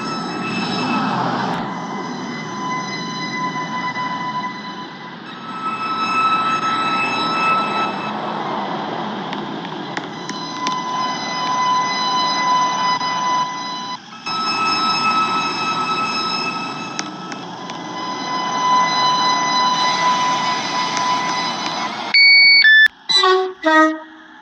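A Roblox Stepford County Railway train at Stepford High Street station, a steady loud rumbling run with sustained wheel and motor tones, short gaps, then a burst of sharp clunks and squeals at the end.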